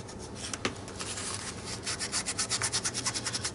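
Rubbing across a surface coated with clear gesso, a close, steady scratchy friction that turns into quick rhythmic strokes toward the end, with no voices.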